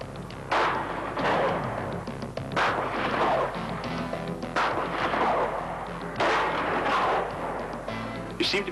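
Gunfire at shooting practice, four heavy booming shots spaced roughly two seconds apart, loud and close, each with a rolling echoing tail.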